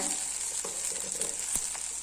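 Vegetables sauté in a pan for a South Indian sambar and okra pachadi meal, a steady bright sizzle with a few soft stirring scrapes and taps, close and alone without talk.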